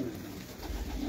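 Sialkoti pigeons coo softly in Lahore, a short low murmuring coo rising near the end with no talk.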